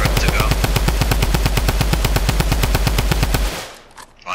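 Rapid automatic gunfire from a shooter video game rattles loud and close in an even, sustained burst of around thirty shots, then cuts off abruptly into quiet.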